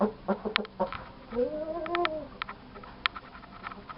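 A 3.5 kg gamecock rooster clucking in a short rising-and-falling call, close by, with scattered bird and farmyard clicks around it.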